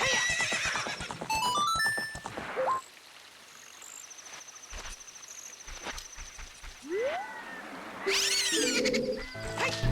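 Epona, a horse in Zelda: Ocarina of Time, gives loud whinnies near the start and end, with hoofbeats and game sound effects while riding across Hyrule Field, no talk.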